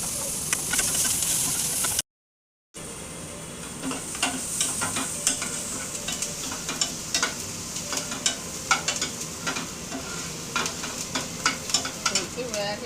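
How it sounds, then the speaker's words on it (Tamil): Boiled banana flower being sautéed in a pan, with stirring scrapes and a steady sizzle of frying. Frequent sharp spatula clicks and taps ring out over the continuous hiss, with one brief dropout early on. "போட்டு வேக வச்ச வாழைப்பூ போட்டு வதக்கணும்."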